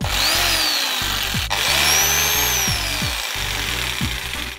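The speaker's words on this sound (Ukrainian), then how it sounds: "Тому беремо електропилку і пиляємо. Так, це називається електролобзик." An electric jigsaw cuts through a plastic roof piece for a homemade bird feeder, buzzing loudly and close with a rhythmic chug as the blade strokes and its pitch dips under load.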